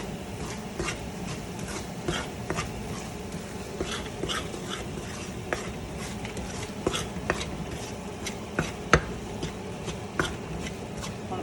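Ingredients for panjiri are stirred while roasting in a pan, giving a steady scraping bed with irregular sharp clicks and taps of a utensil against the metal, moderately quiet and continuous for several seconds.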